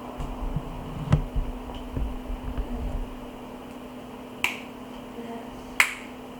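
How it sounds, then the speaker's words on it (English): Sharp finger snaps ring out in a quiet room with a low steady hum, one faint early snap followed by two crisp, clear snaps a little over a second apart. "What if I snap my fingers?"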